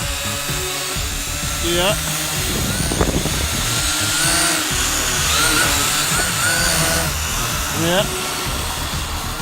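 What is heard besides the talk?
Vivitar Aeroview drone flying, propeller buzz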